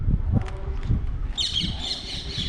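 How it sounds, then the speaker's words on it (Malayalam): Parrots squawk at the Jani Chor ki Baoli stepwell in Meham, Haryana; low handling rumble gives way to a burst of shrill, repeated squawks in the second half, fairly close. "ഇവിടെ തത്തയൊക്കെ ഉണ്ട് കേട്ടോ"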